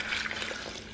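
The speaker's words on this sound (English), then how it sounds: "So like this ZZ plant could use some water." Leftover vegetable water poured onto a ZZ houseplant, a brief, soft, steady splashing trickle heard close up and alone.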